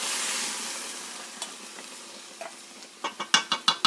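Boiled pumpkin stir-fried in a pan for halwa: a fading sizzle followed by a rising series of sharp spoon scrapes and stirring clatters, growing louder and more rhythmic at the end.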